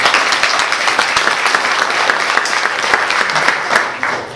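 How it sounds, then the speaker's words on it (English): Audience at a political debate between congressional candidates gives a round of applause, a loud, dense wash of many hands clapping close by that tapers off at the end. "So if you could give them a round of applause, I'd appreciate that."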